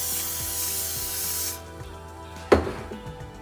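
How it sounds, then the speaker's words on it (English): A steady cooking oil spray hisses loudly onto a warmed pan for about a second and a half, then stops, followed by a quiet sharp clack. "So now that the pan is all warmed up, I'm gonna spray this on."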